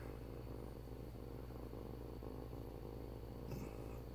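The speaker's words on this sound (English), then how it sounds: "you can maybe hear her purr" Soft, steady purring from a cat lying close against a person, a continuous low rumble with a gentle rhythmic pulse.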